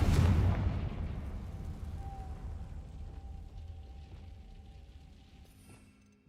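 A Confringo blasting spell going off in the game Hogwarts Legacy: one loud booming explosion at the start that rolls into a long rumbling decay, fading steadily over six seconds with faint game tones at the end.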